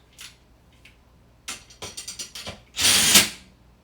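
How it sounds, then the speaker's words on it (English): A cordless drill on its lowest clutch setting whirs in a string of short bursts while tightening drumhead tension rods, then gives one longer, louder run, close up with brief pauses in between. "with the drill, I put it on the lowest tension setting."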